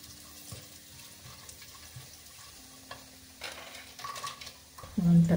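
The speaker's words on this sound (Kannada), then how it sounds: "ಕುಕ್ಕರ್ಗೆ ಒಂದು ಪಲಾವ್ ಎಲೆ ಮತ್ತು ಒಂದು 2 ಇಂಚ್ ಚಕ್ಕೆ, ಒಂದು 4 ಲವಂಗ, 2 ಏಲಕ್ಕಿ, ಒಂದು 2 ಸ್ಪೂನ್ ಜೀರಿಗೆ, ಹಾಗೆ ಸ್ವಲ್ಪ ಗೋಡಂಬಿನ ಹಾಕಿ ಫ್ರೈ ಮಾಡ್ತಾಯಿದ್ದೀನಿ." Bay leaf, cinnamon, cloves, cardamom, cumin and cashews frying in oil in a pressure cooker: a soft, low sizzle with quiet stirring and scraping, then a louder clatter of pan and utensil at the end.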